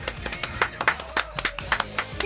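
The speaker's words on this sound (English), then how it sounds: "a warm round of applause" An audience at a fan battle event applauds, with separate hand claps in an uneven, lively rhythm, close and moderately loud.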